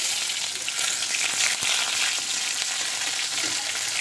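Nigella seeds and onion frying in hot oil for a small-fish patturi: a loud, dense, continuous sizzle with crackling and a single sharp knock partway through, close up with no talking.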